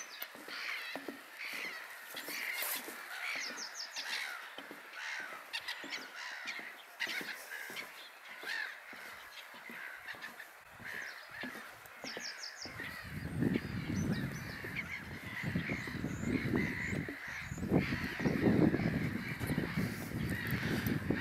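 Outdoor early-morning bird chorus at Lake Hornborga, Sweden, with repeated honking calls of geese and gull-like cries, steady throughout, joined later by low rumbling wind or water noise.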